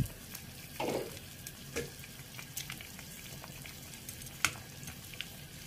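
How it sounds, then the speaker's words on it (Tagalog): Steady bubbling and sizzling from a pot of pork hock soup with corn and potato on the boil, with a few soft stirring knocks and one sharp tap, no voices. "Ayan, kumukulo na."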